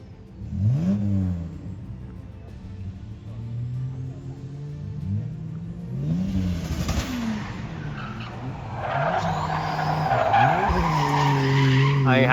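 A Ford XR6 Turbo drifts with repeated sweeping engine revs and long tire squeals and skids, rising and falling as the car slides, growing louder and denser toward the end.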